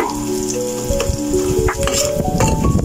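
Shrimp hitting a hot frying pan, seafood cooked Arabic style, giving a steady loud sizzle and frying crackle with the clatter of a stirring utensil against the pan throughout.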